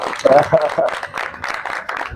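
An audience claps along through a stretch of mixed applause, and voices talk over the steady clapping.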